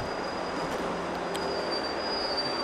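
At a train station, a steady rumble of trains moving on the rails with faint wheel squeal and metallic clatter fills the scene, continuous and at moderate distance with no speech.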